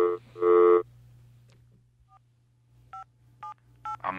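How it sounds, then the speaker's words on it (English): Telephone keypad dialing tones sound as a few short, evenly spaced beeps, loud and clear, after an initial longer buzzing tone, with no speech. "Give me any phone noise in the background."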